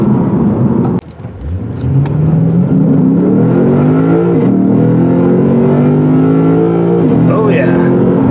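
A 2020 Lexus RC-F V8 in Sport Plus mode revs and accelerates hard from inside the cabin, its engine note rising steadily through a long pull after a short dip, loud and close.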